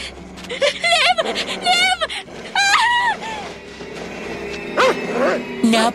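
A drooling dog creeps closer in a horror-story sound effect, giving repeated whimpers, whines and yips close by with brief gaps, mixed with voices.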